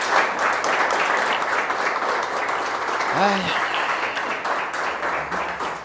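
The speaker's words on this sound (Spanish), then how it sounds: "Recibamos con un aplauso a nuestro profesor José Cervantes" An audience applauds to welcome a professor arriving to give a history talk, a steady sustained roomful of clapping throughout, with a brief vocal exclamation partway through.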